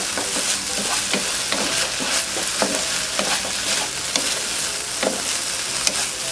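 Stir-frying in a Teflon pan with very little oil, a continuous bright sizzle with repeated scraping and tossing strokes of a utensil, close and steady throughout with no voices.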